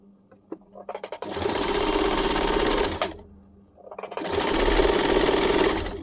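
A sewing machine stitches the seam of a churidar, starting with a few slow stitches, running in a fast steady burst, pausing briefly, then running again in a second long burst at close range.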